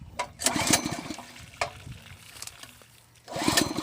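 A red water pump engine, used to pump water for fields in the dry season, is pulled to start several times in short bursts, sputtering and catching briefly before roaring louder at the end, close by.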